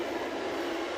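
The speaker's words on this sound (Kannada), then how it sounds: "ಇನ್ನೇನು ನನ್ನ ಮೆಟ್ರೋ ಈಗ ಬರಬೇಕಾಗಿದೆ" A Bangalore metro train at Baiyappanahalli station gives off a steady, loud rumbling roar with no break, close by and with no voices.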